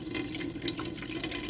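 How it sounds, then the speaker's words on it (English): Buttermilk poured from a container into a farm bowl for making butter, a continuous close liquid splashing and trickling stream, steady throughout with no talking. "I'm just going to pour the milk, that's your buttermilk, into a clean pan or bowl."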